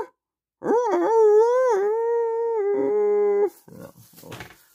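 A dog lets out a long, clear howl that rises and wavers, then trails off into a few short whimpering yelps.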